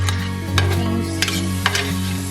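Shrimp with seasonings and butter are stirred in a hot pan, giving a close sizzle under a low steady hum, with a few quick scraping strokes spaced about a second apart.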